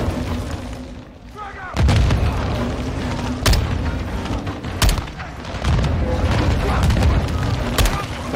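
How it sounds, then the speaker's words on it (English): A grenade blast in the shooter Call of Duty: Modern Warfare II lands amid close, heavy battle noise. A loud boom is joined by repeated sharp gunshots and rumbling fire throughout, with voices partly heard beneath the din. "Grenade!"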